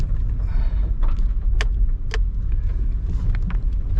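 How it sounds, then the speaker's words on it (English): A car not built for rough roads crawls along the unpaved Portage Pass Trail in Alaska, a low rumbling drone broken by sharp clunks and rattles as the body jolts over bumps. "I am not in a car that was meant for these kinds of roads."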